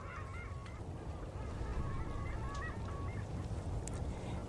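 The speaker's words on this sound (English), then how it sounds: "there's a small flock of long-tailed ducks yodeling" A small flock of long-tailed ducks calls on Lake Ontario in winter, with rising and falling nasal yodelling notes carrying faintly over the steady rush of wind and water.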